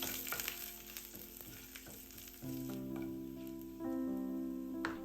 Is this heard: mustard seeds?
yes